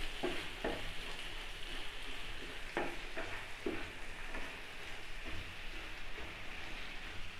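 Egg tomato curry with ground green coriander being stirred and fried in a pan, a steady sizzle with soft scraping stirs at irregular intervals, close and moderately quiet, no voices.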